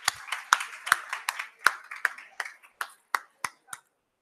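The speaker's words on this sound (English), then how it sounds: "may we give a round of applause to Dolly in her absence" A small scattered burst of hand clapping at a women's parliament event in Mumbai, a dozen or so distinct claps thinning out and stopping, close and fairly sparse.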